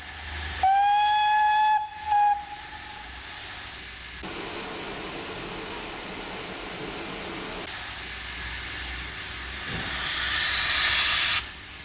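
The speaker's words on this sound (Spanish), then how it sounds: "la admisión de los cilindros se abre brevemente mientras la máquina inicia la marcha" A steam locomotive, warm after running from Minehead, starts away with its cylinder admission briefly opened, giving a steady close hiss of steam that swells toward the end, preceded by a couple of sharp whistle-like tones.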